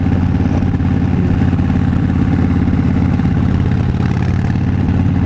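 A Harley-Davidson Fat Bob motorcycle engine idles up close, a loud continuous low rumble with an even, rapid thumping pulse that holds steady throughout.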